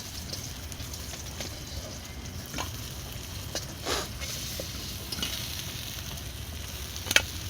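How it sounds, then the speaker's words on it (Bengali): Fish fries red in a pan and is lifted out piece by piece, a soft steady sizzle with scattered light scrapes and one sharp clink of a utensil near the end. "একটু বেশি করে একটু লাল লাল করে ভেজে নিয়েছি"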